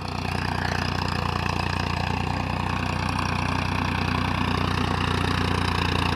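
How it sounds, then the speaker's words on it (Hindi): A Farmtrac 50 tractor pulls a 9-tine cultivator with both tillers lowered while its wheels slip, its diesel engine droning loud, close and unbroken under heavy load, with no talking. "देखिए स्लिप कर रहा है ट्रैक्टर,"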